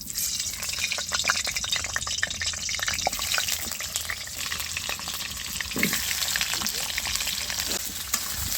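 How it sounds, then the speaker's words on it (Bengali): Potatoes dropped into hot oil fry with a steady, dense sizzle and crackle, close up, with a few stirring clicks and faint water-like hiss throughout. "তেল গরম হয়ে গেছে এবার আমি আলুগুলোকে ছেড়ে দেবো"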